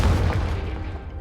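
Confringo spell blast in Hogwarts Legacy, a short deep booming burst that fades out over about a second.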